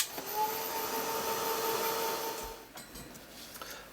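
A heat tool blows air over a stencil to dry it, a steady close whirring hum with a faint whine lasting about two and a half seconds before cutting off to quiet handling sounds.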